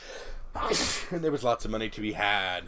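A person sneezes sharply, a sudden loud burst amid casual podcast conversation, with talking before and after it.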